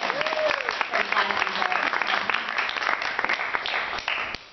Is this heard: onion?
no